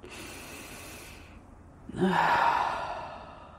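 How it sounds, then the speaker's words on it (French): One slow, deep breath during a guided meditation, a soft drawn-out inhale after a quiet pause followed by a gentle exhale, close and alone. "Prenez encore une fois une grande respiration profonde."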